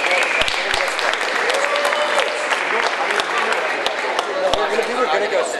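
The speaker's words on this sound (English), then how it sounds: "Please give them a round of applause as they come up to the stage" An audience at a panel event applauds steadily as the panelists come up to the stage, with dense clapping, a few sharper claps and crowd chatter mixed in.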